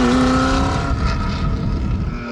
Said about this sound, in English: With George behind the wheel, the GT40 performed as if we were on a warm-up lap at Lamar Sebring